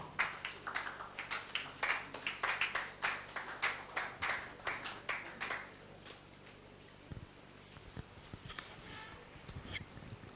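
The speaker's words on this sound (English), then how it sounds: "Please, let's clap for him as he comes forward" Roughly fifteen evenly spaced, rhythmic hand claps ring out fairly close at an afternoon gathering for a clean rivers initiative, then stop and give way to scattered shuffling and soft handling noises.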